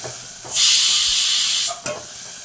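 Tomatoes hit hot oil while mutton paya cooks, a sudden loud hiss of sizzling that holds steady for about a second, then dies down quickly with a small clatter.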